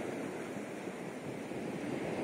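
Small sea waves on a stormy October morning: a steady, close wash of surf and broad rushing noise, with wind buffeting the microphone throughout.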